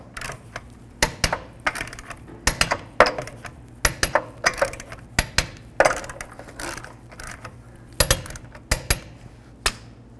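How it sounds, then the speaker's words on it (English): Lug nuts are torqued onto a 2007-2012 Nissan Altima rear wheel, with a series of close metallic clicks and ratchet taps in uneven bursts, and no talk. "Torque the lug nuts to 83 foot-pounds."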